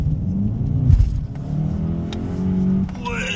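A Volkswagen Golf 8 GTE, 250 hp, accelerates in sport mode, a low engine rumble building and holding over a few seconds from inside the cabin, with faint road noise.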